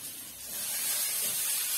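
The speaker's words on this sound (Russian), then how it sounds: "Сейчас сдвину сковородку, чтобы не горело." Steady, bright hissing sizzle of a frying pan on a stove, continuous and fairly close, growing slightly louder after the first half second.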